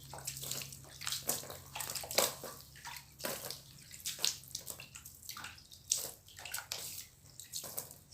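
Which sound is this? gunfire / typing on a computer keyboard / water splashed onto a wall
water splashed onto a wall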